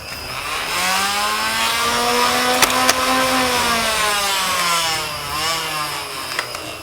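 Flywheels in a Nerf Ultra One blaster, powered by four C batteries, spin up with a rising, rough mechanical whir. The whine holds steady for several seconds and then winds down, loud and close, with no talking over it.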